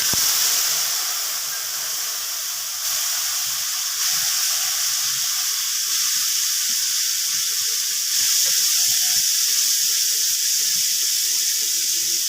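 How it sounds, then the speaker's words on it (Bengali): Water poured into a hot pan of cauliflower tempered with fennel seeds sets off a loud, steady sizzling hiss that lasts the whole stretch and swells slightly near the end, with no talking. "দিয়ে দিচ্ছি সামান্য একটু জল।"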